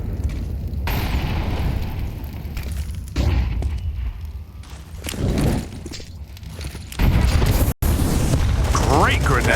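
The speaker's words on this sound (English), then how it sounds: "Great grenade." A grenade blast in a Counter-Strike match, Eternal Fire versus 3DMAX at IEM Katowice 2025, with several heavy booms and bursts among game noises and footsteps, under a commentator's talk.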